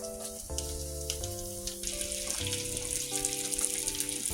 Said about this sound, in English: Sear your salmon starting with the skin side down.